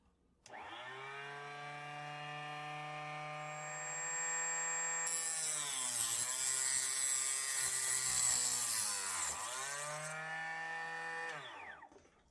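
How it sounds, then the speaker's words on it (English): A mini chop saw whines as it rough trims a 45-90 brass cartridge case, a single sustained high-pitched cut close up that rises in pitch and grinds through the metal before spinning down, no voices. "The mini chop saw quickly does the job of rough trimming."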